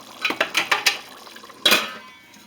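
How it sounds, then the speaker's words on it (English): A tight-fitting lid goes onto a pot of rice pilaf at a rolling boil, with a quick run of metallic clinks and rattles followed by a firmer clank as it settles into place. "We're going to put on a tight-fitting lid."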